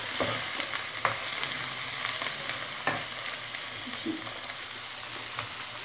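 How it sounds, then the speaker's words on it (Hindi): Tomato puree and paste frying in a pan for chicken tikka masala, a steady close sizzle with occasional stirring clicks and soft spatters throughout. "और इसके बाद हम इसमें टोमेटो प्यूरी डालेंगे और टमाटो प्यूरी डालने के बाद हम इसमें, यानी टमाटो का पेस्ट डालेंगे"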